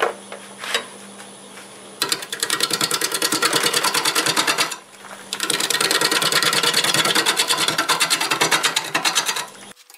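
A wood lathe turns an out-of-round wood blank at around 650 RPM, producing a rapid, even clattering pulse in two long runs separated by a brief dip, close and fairly loud.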